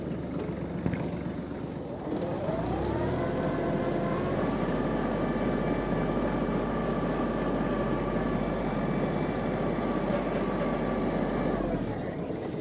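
A Kubota KT24 mini tractor engine runs steadily as the machine drives off, a continuous low diesel drone that rises in pitch about two seconds in and holds near and loud until it eases near the end, with no talk.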